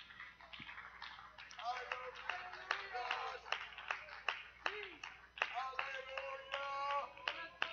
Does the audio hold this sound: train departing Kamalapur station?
no